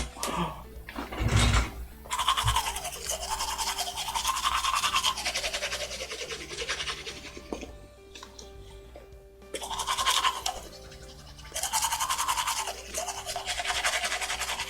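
Toothbrush scrubbing teeth in close ASMR style, sustained bristly strokes repeating in a steady back-and-forth rhythm with brief breaks.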